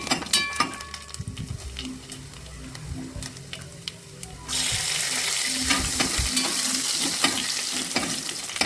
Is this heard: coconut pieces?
yes